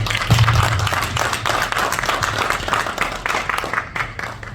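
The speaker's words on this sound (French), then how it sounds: "il mérite les applaudissements" Dense applause from the audience at a press conference in Dallas, Texas, a continuous wash of many hands clapping loudly throughout, with crowd noise mixed in.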